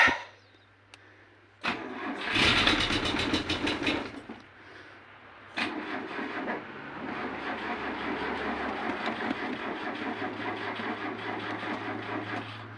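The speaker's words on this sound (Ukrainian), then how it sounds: "Повертаємо ключик на старт. Запускаємо." Turning the key for a cold start on a car: a brief starter crank churns, the engine catches with a rough surge, dips, then settles into a steady, fairly loud idle close by.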